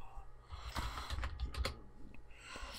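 Typing on a computer keyboard, a short burst of close, quick keystrokes over a low background hum, with no voice over it.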